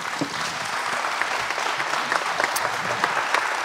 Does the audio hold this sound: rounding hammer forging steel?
no